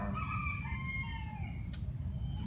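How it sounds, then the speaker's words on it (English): A rooster crows over a crowd of clucking chickens in a farmyard coop, several long drawn-out calls overlapping above a steady background racket of birds, fairly close and loud throughout. "I gotta go check on the chickens. There's a lot of racket."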